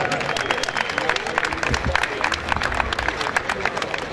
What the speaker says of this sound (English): Ladies and gentlemen, round of applause for our key participants in this contest.